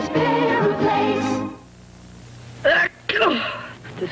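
A single loud, sharp sneeze bursts out after a stretch of announcer talk and quiet, followed by a brief gap and a second sputtering sneeze-like burst, part of a 1979 cold medicine television commercial.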